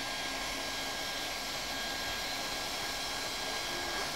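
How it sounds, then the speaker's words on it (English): A hot air nozzle blowing under a strip of wine press membrane during a repair, giving a continuous, steady, loud rushing blast with no breaks or talk. "Again, slide the air nozzle under there."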